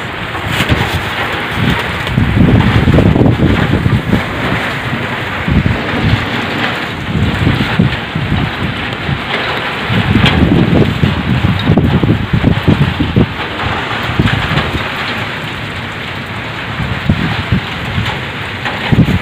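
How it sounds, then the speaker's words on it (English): Heavy rain pours steadily during a wild storm at home, a dense roar with gusting wind buffeting the microphone and low thunder rumbling in repeated surges throughout. "I don't know you're feeling the intensity of the rain or not, but this is very wild."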